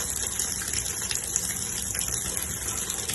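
A shower valve turned on sends water gushing and splashing steadily and loudly, a constant rushing spray close by with no speech over it.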